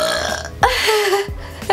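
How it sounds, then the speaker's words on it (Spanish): A woman burps after drinking many glasses of water, with two short throaty belches and a faint third onset, close and clear. "Es que quiero eructar, esperen."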